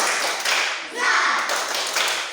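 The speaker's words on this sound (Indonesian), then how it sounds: "Tepuk semangat." Classroom pupils in an Indonesian Catholic religion lesson perform a group spirit clap, producing dense, steady rhythmic clapping that swells and dips in short bursts, loud and close, with voices chanting along.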